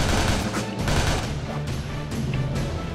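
Rapid video game gunfire from Shank 2 during co-op play on a boat, a dense continuous volley of loud shots with crashes mixed in, no voices.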